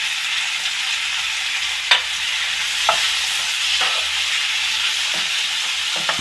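Onions and tomatoes sauté in a pan with a steady loud sizzle, punctuated by a few sharp scrapes and taps of a spatula stirring them.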